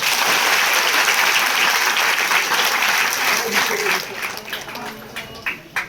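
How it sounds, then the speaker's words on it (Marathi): A village gathering in Shindi honouring former soldier Eknath Pawar breaks into loud, dense crowd applause that holds steady for about four seconds, then thins into scattered, fading claps. "म्हणून थोडासा त्यांच्या नावाने टाळ्या वाजाव्या"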